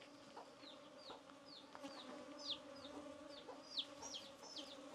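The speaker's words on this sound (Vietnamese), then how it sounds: "Tổ ong mật rất là nhiều ở chỗ này ấy." Honey bees swarm near hives in a forested spot, a steady low drone running throughout with sharp, high bird-like chirps repeating above it.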